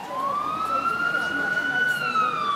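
Emergency vehicle siren wailing at a car accident scene on a street in Baia Mare, a steady rising and falling tone that dominates the clip.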